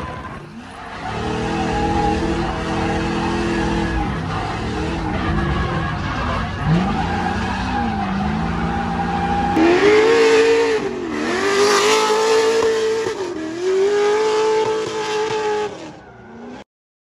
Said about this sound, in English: First time in a drift car ever